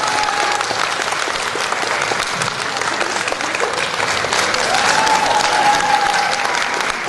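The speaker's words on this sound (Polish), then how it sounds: "Brawa!" Steady, sustained applause from a crowd, a dense wash of clapping that holds evenly for several seconds.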